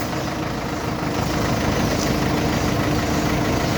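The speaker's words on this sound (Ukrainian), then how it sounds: "Евакуатор." A tow truck engine idles nearby, a steady low rumbling drone with constant vibration throughout.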